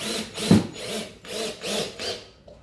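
A power driver sets a screw through a board into a timber sauna bench, reversing and re-driving it: several close, rasping whirring bursts of about half a second, one louder spike near the start, with no talk.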